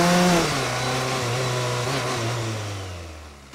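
Small moped scooter engine revving hard as its rider flees a police motorcycle, a loud buzzing whine that drops in pitch and fades slightly as it pulls away.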